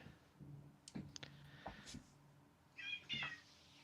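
A cat meows several times, quietly and close by, with brief pauses and soft clicks between calls.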